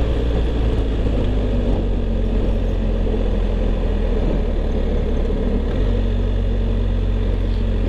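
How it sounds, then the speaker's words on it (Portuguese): BMW R1250 ADV motorcycle engine braking down a mountain road, a steady low rumble with engine drone and wind noise throughout, close and continuous, no talking. "Descer aqui no freio motor."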